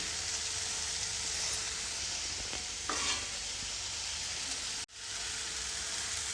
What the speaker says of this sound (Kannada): ಮೂರರಿಂದ ನಾಲ್ಕು ನಿಮಿಷ ಎಣ್ಣೆಯಲ್ಲಿ ಫ್ರೈ ಮಾಡ್ಕೊಂಡಾದಮೇಲೆ ನಾನು ಅದಕ್ಕೆ ಒಂದು ಸ್ವಲ್ಪ ಕೊತ್ತಂಬರಿ ಸೊಪ್ಪನ್ನು ಹಾಕ್ಕೊಳ್ತಾ ಇದ್ದೀನಿ